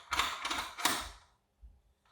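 Metallic scraping and creaking as a large bolt is pushed through the wheel bearings of a Nurxiovo cotton candy machine, a short burst of grinding friction that fades to near silence, followed by a faint tap.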